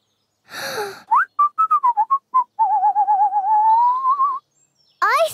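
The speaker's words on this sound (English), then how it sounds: "you whistled" A sequence of bright whistled notes, short chirps and sliding tones, ending with a longer wavering whistle, close and clear against silence.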